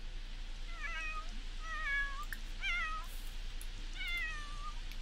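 Soft, repeated meows from a cat in The Sims 4, about five short calls spread at uneven intervals over a quiet background, fairly close and gentle.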